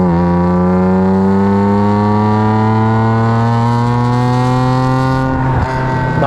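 A BMW Z4M roadster engine revs loud and close, a steady harmonic drone slowly rising in pitch over several seconds before easing off near the end, with no talking.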